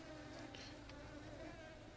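Flies buzzing in the video game Supraland, a faint steady insect drone with a few brief louder whines over a low background.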